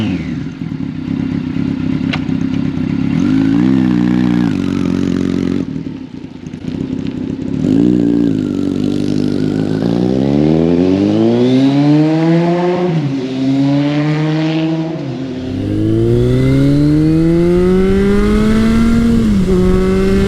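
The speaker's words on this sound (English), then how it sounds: "I am currently riding Kawasaki's 1981" 1981 Kawasaki KZ1000 CSR motorcycle ridden on the road, loud close engine revving up through the gears with rising pitch sweeps and brief drops at each shift.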